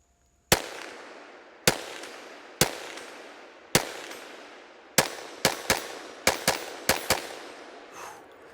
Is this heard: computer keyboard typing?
no